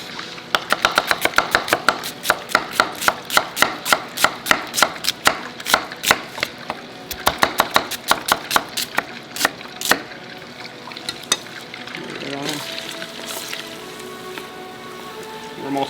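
A knife chopping onions on a board in rapid, regular close strokes, in bursts of quick cuts with brief pauses, then fading into softer handling sounds near the end.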